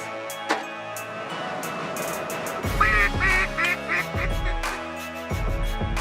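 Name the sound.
duck call being blown, imitating duck quacks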